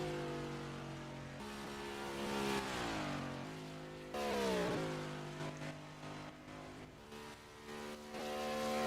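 A race car engine revs up and down through the gears on a qualifying lap around an oval track, the pitch climbing and dropping as the driver works the throttle, loud and steady throughout.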